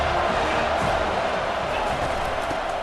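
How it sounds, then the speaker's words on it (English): A stadium crowd at a Clemson versus Florida State college football game makes a steady, dense roar of cheering and noise that holds at an even level for the whole stretch. "It's early, but this crowd is fired up. Listen to this noise here."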